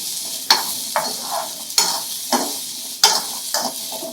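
Onions being sautéed in a pan for a yam kuzhambu, scraped and turned by a spatula in regular strokes about every second, each stroke a loud close scrape over a soft continuous sizzle.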